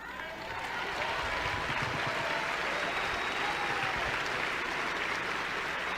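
A crowd at a public talk claps in dense, sustained applause that swells quickly and stays loud and even throughout.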